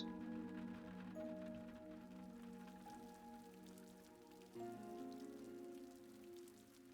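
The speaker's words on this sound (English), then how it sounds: "now we can hear the rain again" Steady rain falls in the video game Witch on the Holy Night over a soft, sustained musical backdrop of held tones, with no voices; the downpour stays constant throughout.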